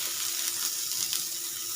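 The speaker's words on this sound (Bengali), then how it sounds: "এখন এর মধ্যে দিয়ে দেবো একটা বড় সাইজের পেঁয়াজ।" A large onion frying in mustard oil makes a continuous soft sizzle with light crackling, close by and fairly quiet, with no speech.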